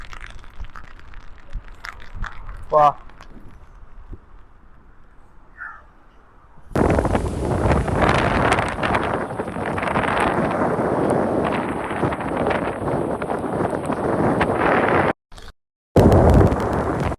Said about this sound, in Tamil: காற்றும் மழையும் நிறைய மாதிரியே தெரியுது